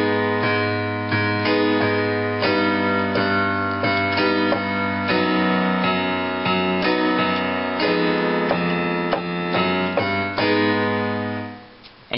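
Slow piano chords sound one after another, each struck and left to ring, with the last one fading out alone at the end.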